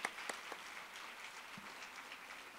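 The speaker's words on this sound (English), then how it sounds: "Can we have a full round of applause," Conference audience at a Montana Chamber of Commerce event clapping, a soft, fairly distant wash of applause with a couple of sharper claps at the start.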